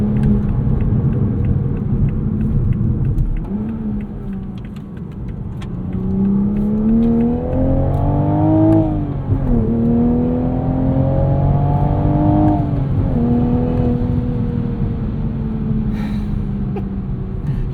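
A 2024 Toyota Supra 45th Anniversary Edition with a 6-speed manual and BMW B58 engine pulls hard up an on-ramp, revs climbing and dropping through several gear changes in a loud, close run with no talking.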